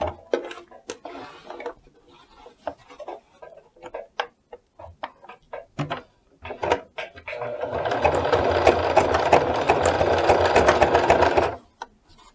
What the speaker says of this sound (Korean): 자, 이렇게 해서 박기 시작합니다.